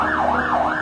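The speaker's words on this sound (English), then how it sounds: "with sirens blaring into the next morning" An emergency vehicle siren wails in Beirut after the port explosion, its pitch sweeping up and down in a steady cycle, loud and continuous with no voices.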